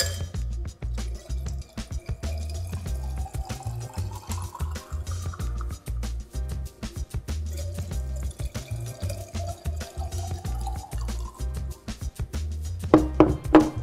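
Sangria poured into glasses already filled with ice, a steady liquid stream running throughout with faint clinks of ice and glass, fairly close and with no talking.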